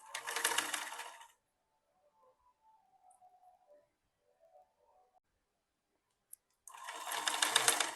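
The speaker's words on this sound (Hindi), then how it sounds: "लास्ट में किनारे किनारे में एक एक्स्ट्रा सिलाई चला के ऐसे बिल्कुल फिनिशिंग करके" A sewing machine runs an extra seam along a frock's edge in two short close bursts of rapid stitching, separated by a quiet pause with faint handling sounds and a small click.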